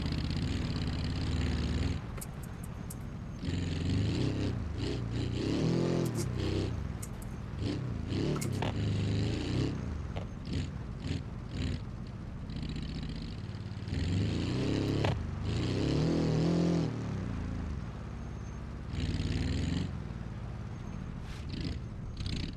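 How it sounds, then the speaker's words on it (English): A car engine bogging and revving in a driving video game, a deep uneven rumble that surges and drops repeatedly, loud and close with no talk over it. "You hear this freaking engine bog?"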